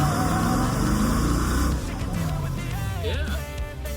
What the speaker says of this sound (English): I bet you it does pretty good burnouts